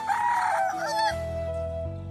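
A rooster perched up high gives one close, loud crow, the call rising and then trailing off, with no talk over it.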